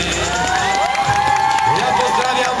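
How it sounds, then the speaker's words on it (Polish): A crowd applauds and cheers loudly at a WOŚP charity finale in Mszana Dolna, with a continuous wash of clapping and shouts. "więc wielkie brawa!"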